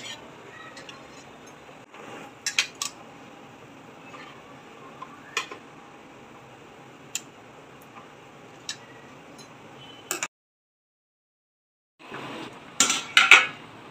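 Alu vadi pieces being turned over in a pan with a spatula, a string of sharp, separate metal clacks and scrapes over a faint background, then a short silence and a final burst of clatter.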